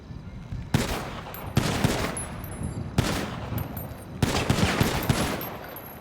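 Repeated bursts of gunfire from a shooting game set in GTA V, loud broadband volleys at a steady rhythm, roughly four sustained bursts with brief gaps between them, with faint high electronic tones from the game above.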